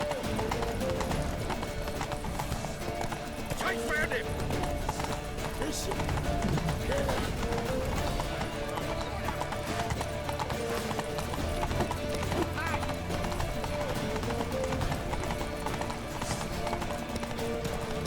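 Horse hooves gallop in The Witcher 3, a rapid continuous clip-clop beating steadily through the whole stretch alongside loud game sound, with voices talking over it.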